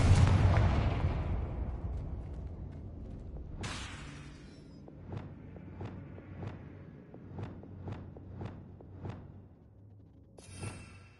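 Confringo explosive spell cast in Hogwarts Legacy, opening with a loud blast that decays, then a whooshing burst followed by a series of sharp, evenly spaced impact cracks and a final bright burst.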